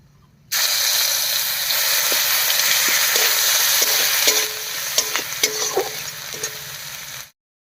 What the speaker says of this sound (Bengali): এবার এর মধ্যে দেব কুচি করা আদা